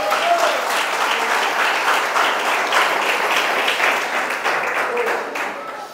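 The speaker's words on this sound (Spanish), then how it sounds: "Démosle palmas de alabanza al Señor." A church congregation claps in praise of the Lord, a dense, steady wash of many hands filling the room close by for the whole stretch, with faint voices mixed in underneath.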